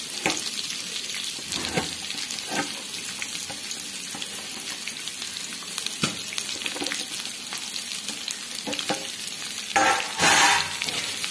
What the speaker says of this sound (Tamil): இப்போ இந்த தோலை நல்லா வதக்கணுங்க